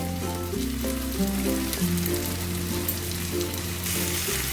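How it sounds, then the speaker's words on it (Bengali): Prawns and potato sautéing in a curry sizzle in a steady, close crackle that runs throughout, with soft tonal music playing underneath. "মাছটাকে কষিয়ে নিচ্ছি"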